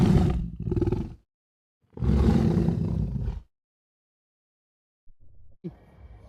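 A tiger gives two long, loud roars separated by a brief pause, followed by a stretch of silence and then a few faint, short rumbling sounds near the end.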